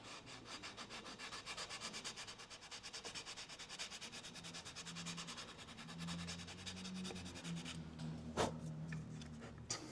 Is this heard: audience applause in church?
no